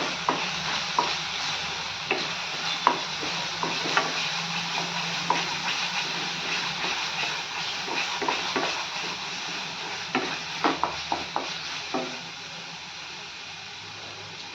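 Mutton being stirred in a pan with chili powder and a chutney of onion and garlic masala for a village-style spicy mutton rassa. Repeated scraping and clacking strokes sound over a steady low sizzle, close up and with no talking.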